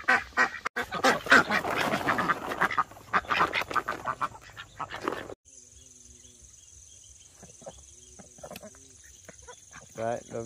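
Ducks being let out into a garden quack loudly and densely in a burst, followed by a quieter stretch with a steady insect-like hiss and a few scattered calls.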